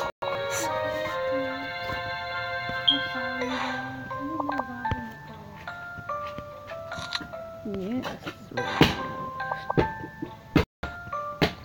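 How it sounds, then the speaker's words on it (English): Bright chimes, dings and jingling game-style tones from Candy Crush ring out over a faint background, alongside a few sharp clicks and short sweeping effects, with the sound moderately loud and somewhat busy. "This video is mostly about me playing Candy Crush."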